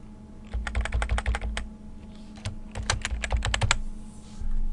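Typing on a computer keyboard, two quick runs of crisp, close key clicks separated by a short pause, alone in a quiet room.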